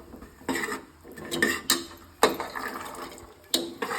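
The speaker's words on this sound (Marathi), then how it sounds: "त्यात हे चिरलेले अळू टाकते." Chopped taro leaves drop into a metal cooking pot in a village kitchen, giving several close clattering thumps and scraping knocks of utensil against pot, spaced unevenly with no voice.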